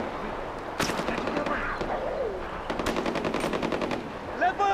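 Rapid bursts of automatic gunfire in Far Cry 4 crackle in several volleys with brief gaps, fairly loud, with faint background chatter and effects between the bursts.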